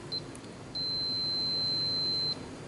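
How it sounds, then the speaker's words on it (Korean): A multimeter gives its continuity-test beep, a brief chirp and then a steady high electronic tone lasting about a second and a half, clear and close over faint hiss. "이게 삐 소리 나는 거, 그 선이 끊어졌나 안 끊어졌나 이제 확인할 때 하는 거."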